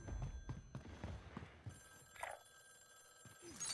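A telephone bell ringing in a haunted Verdansk game mode, a faint trilling ring rising out of quiet game sounds with thuds and footsteps around it.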